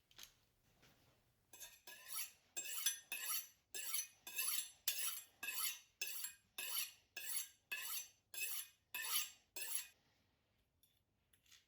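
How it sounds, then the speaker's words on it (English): A knife cuts a pan-seared buffalo sirloin steak on a plate, about fourteen even, crisp scraping strokes in a steady rhythm, close and clear with no talking. "Serve the steak whole or cut it into fine slices."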